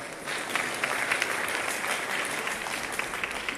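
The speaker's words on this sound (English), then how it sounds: "Please do a big round of applause for that" An audience gives a big round of applause after a speech on Africa's future, the dense clapping filling the room steadily and evenly from start to finish.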